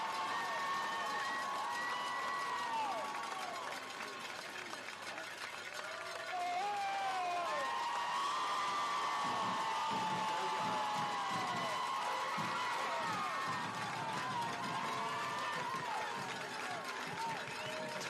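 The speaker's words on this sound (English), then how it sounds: "You can hear the crowd." Crowd noise in the stands at a night high school football game between two undefeated teams, a steady broad roar with rising cheers and whoops, fairly loud and continuous throughout.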